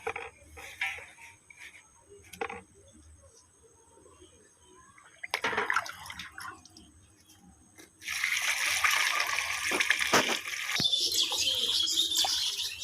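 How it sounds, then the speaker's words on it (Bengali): Leafy stem amaranth greens rinsed in water, with intermittent splashing and handling for the first half. A louder, continuous rush of running water follows, and faint birdsong sounds outdoors in the background. "এই শাকগুলো এখন আমি খুব ভালোভাবে ধুয়ে নেব"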